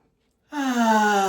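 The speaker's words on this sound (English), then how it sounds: "When I start to panic, I take a big noisy breath." A big, noisy calming breath taken by a woman at a moment of panic. It is one loud, close, drawn-out breath with a voiced, sighing tone, heard alone after silence.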